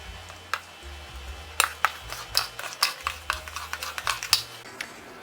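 Cheesecake filling with lemon and vanilla extract mixed in a bowl with a hand mixer: a low motor hum that switches on and off, with frequent light clicks and taps from the beaters against the bowl, no speech.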